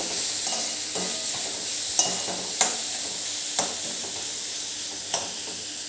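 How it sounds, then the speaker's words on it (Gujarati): Tomatoes sautéing in a pan over a low flame for garlic spinach, a steady soft sizzle with several sharp stirring clicks of a spoon against the pan, close and alone with no talk. "હવે આને પણ આપણે એકદમ એને સોફ્ટ થઈ જાય ત્યાં સુધી સંતળાવા દઈશું"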